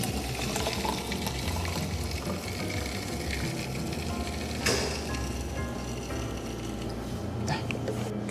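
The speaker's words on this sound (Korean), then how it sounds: "블렌딩된 음료를 이렇게 부어주시면 됩니다." A blended cafe energy drink is poured into a glass over a layer of syrup, producing a steady, close, continuous liquid rush that lasts throughout, with a brief sharper splash or clink partway through.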